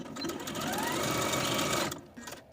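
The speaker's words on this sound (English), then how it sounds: "I'm going to quickly take this to my sewing machine and sew a straight line down, sewing those binding strips together" Sewing machine stitching binding strips together in a straight seam, a steady fast whirring motor and needle chatter running close and continuous for nearly two seconds before stopping abruptly.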